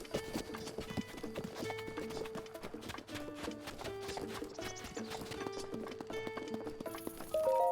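Horse hooves clip-clop steadily in Zelda: Breath of the Wild, heard as a quick, even trotting rhythm over music from the game, which runs continuously in the background.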